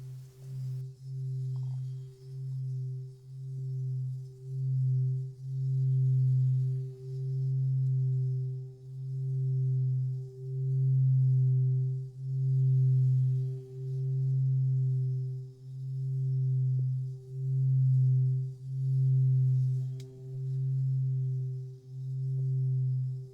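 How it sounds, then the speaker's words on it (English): A Tibetan singing bowl has its rim rubbed steadily with a stick, giving a continuous close ringing tone with a slow pulsing wobble that swells and recedes for over twenty seconds, with no voices. "Now sometimes I just use the stick around the rim of the bowl like"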